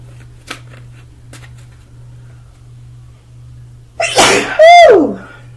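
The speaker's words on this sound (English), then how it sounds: "I have to sneeze." A single loud sneeze bursts out close up, preceded by a sharp inhale, after a few faint clicks against a steady low hum.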